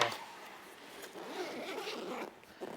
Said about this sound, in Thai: ซิปเขาค่อนข้างยาวนะแล้วก็ตัวซิปเนี่ย มันจะเป็นกันกันน้ำนะครับ